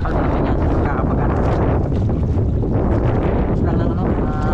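Strong wind roars steadily across a fishing boat out at sea, buffeting the microphone in a loud, unbroken rush, with voices faintly underneath.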